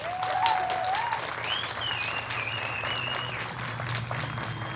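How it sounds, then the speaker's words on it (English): Sustained crowd applause at an outdoor youth advocacy ceremony and march, a steady dense wash of clapping with a few shrill whistles riding over it, loud and continuous throughout. "Can we give them another round of applause?"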